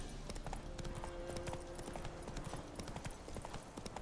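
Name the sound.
horse Roach hoofbeats in a video game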